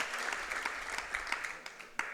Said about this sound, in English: let's have a warm round of applause for both of these black belts